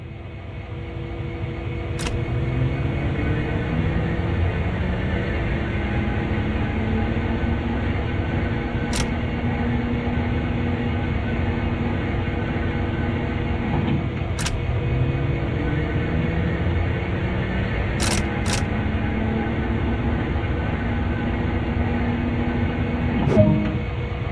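A locomotive turntable in Train Sim World rotating, heard as a steady low mechanical drone and rumble with faint grinding tones, punctuated by occasional sharp clicks and a brief clunk as it stops.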